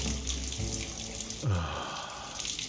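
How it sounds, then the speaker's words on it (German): A tap runs steadily in the Hitman video game, a continuous splashing hiss of water filling a sink at Sapienza, Italy, heard alone at close range with a brief thud midway. "Das Wasser läuft."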